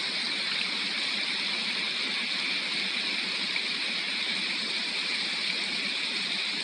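Snowmelt water rushing down a mountain stream in the Kütahya highlands, a steady close broadband wash that holds unbroken and alone throughout.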